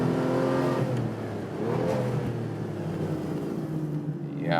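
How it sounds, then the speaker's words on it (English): An Aston Martin V12 Vantage S Roadster with a 580 hp V12 engine downshifts on the road. The exhaust note is loud and close, with the revs rising and falling through the shift, and a sharp blip near the end. "Let's now shift down. Hear this great sound."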